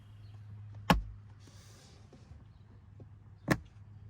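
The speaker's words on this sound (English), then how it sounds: "now I'm just going to push them up, and you'll hear them snap in place" Plastic interior trim clips on a 2022 Tesla Model Y Performance snapping into place by hand, two short sharp clicks a few seconds apart in a quiet cabin, close and distinct.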